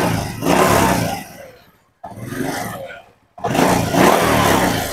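A motorcycle engine runs with its valve cover removed, heard nearby as three loud, roaring revs broken by two brief near-silent gaps.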